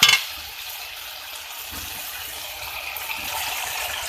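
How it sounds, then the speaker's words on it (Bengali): Water splashes into a pan of frying spices for palong shak, a steady broadband hiss and gush with a brief louder burst at the start, holding evenly close by with no talk. "সামান্য একটু জল দিয়ে দিয়েছি"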